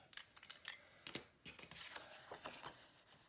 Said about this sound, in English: Okay, so then I get our little scissors for this job.